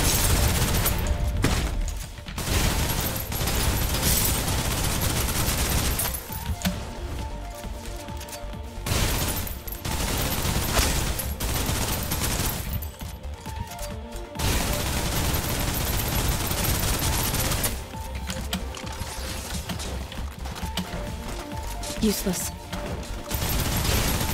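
Sustained suppressive gunfire in the Snowbreak game on PC: loud, continuous bursts of automatic fire, broken by a few short pauses, with voices speaking over the shooting.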